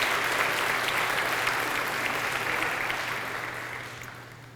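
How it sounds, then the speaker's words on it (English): Sustained applause from a convocation audience honoring a college staff member's tenure pin, a steady, dense clapping that slowly fades toward the end, with no one speaking. "so do give her a round of applause."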